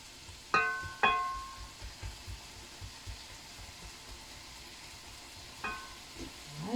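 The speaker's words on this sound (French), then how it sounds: "Je continue à remuer les poivrons, les oignons" Sliced peppers and onions cooking in a pan give a soft, low sizzle under a few sharp metallic clinks of a utensil stirring against the pan, with scattered scraping taps between them.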